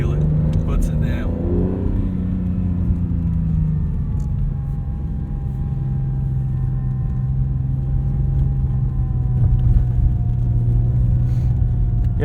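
An Acura NSX pulls away hard on a snowy road on Blizzak DM-V2 winter tires, its engine note dropping then settling into a loud, steady, close rumble heard from inside the cabin.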